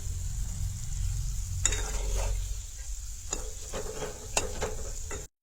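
Gulab jamun fry in oil with a low continuous bubbling sizzle, then a spoon clinks and stirs through the pan in a few sharp close strokes, with no talking.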